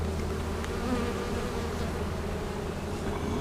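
Honey bees from a captured swarm buzz in a dense, continuous drone during a hive inspection, a close and even hum that runs alone without talk.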